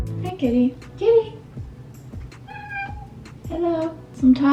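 A cat meows several times up close, short rising and falling cries with brief pauses between them, over faint background noise.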